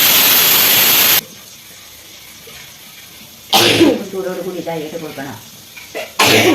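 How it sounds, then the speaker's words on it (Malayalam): Loud, harsh sneeze bursts come in a series: a long one at the start, another midway and a third at the end, with a person speaking between them. "വീഡിയോ ഓണാക്കിയപ്പോഴാണ് ചുമ്മലോട് ചുമ്മൽ"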